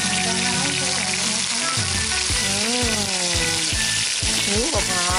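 Sea crab stir-fries in a pot with tamarind sauce, giving a loud, continuous sizzle and bubbling while a spoon stirs with scraping strokes.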